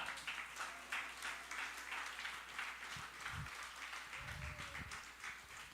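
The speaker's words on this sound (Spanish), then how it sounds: "bríndele un aplauso al Señor" Steady applause from a church congregation praising the Lord during a sermon, sustained clapping from many hands throughout with a few low thumps.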